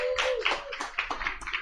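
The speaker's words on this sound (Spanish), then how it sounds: "Un aplauso para Estefanía." Brief scattered audience clapping at a talk with women scientists in Colombia, a short burst of claps close by with no speech over it.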